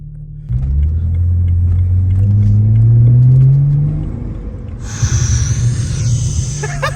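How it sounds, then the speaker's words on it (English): A BMW E92 335i engine with a new aftermarket air intake idles, then revs up smoothly with a deep rising growl, settles back, and rumbles on with a hissy whoosh near the end. "Oh my god, that's the new intake. Bro, that sounds so good."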